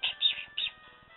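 Short chirping bird cry from a Pokémon in the Pokémon Black video game, two or three bright electronic tweets in quick succession, clear and alone.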